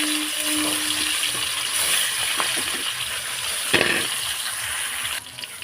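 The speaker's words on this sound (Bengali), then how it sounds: "আমি মাছগুলো একটু ভেজে নেবো খুব ভালো করে।" Pieces of katla fish rubbed with salt and turmeric sizzle in hot oil, a steady close, dense hiss throughout with a few sharp crackles and spits, no voices.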